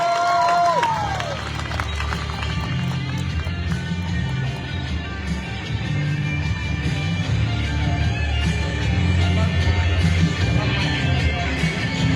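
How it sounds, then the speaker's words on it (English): A crowd applauding a butcher at a live butchery competition, steady and fairly loud clapping and crowd noise that runs unbroken for the whole stretch. "Give him another round of applause."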